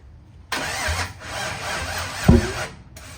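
A Jeep Wrangler JK with an LS engine swap cranks over in two bursts of starter grinding with a single sharp, loud backfire pop in the middle, close up, with no talking.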